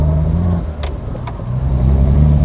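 A 1957 Lancia Aurelia B24 S Convertibile engine running close by with a loud, steady low hum, briefly dipping in the middle, and two short sharp ticks over it, with no voices.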